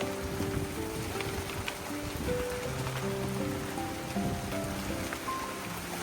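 Heavy rain pours down during a windy night thunderstorm in the countryside, a dense, steady hiss and patter of drops on surfaces with no voices.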